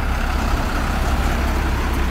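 Heavy trucks and other traffic roll past on a busy road, a loud continuous engine rumble and tire roar close by with no speech.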